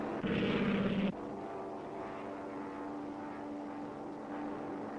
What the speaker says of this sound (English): Looks like a reconnaissance plane, sir, or a Zeke. Aircraft identified. Enemy dive bomber.